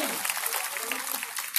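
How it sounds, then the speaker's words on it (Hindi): An audience claps steadily at a religious gathering in Noida, a dense, even patter of many hands holding throughout, with a voice speaking faintly beneath it. "ताली बजाइए पुजारी जी।"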